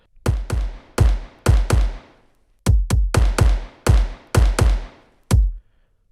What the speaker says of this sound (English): together 3 kicks in a room sound like this.